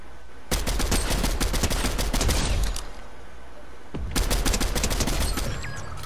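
Video game gunfire in two long bursts of rapid automatic fire, loud and close, separated by a brief pause.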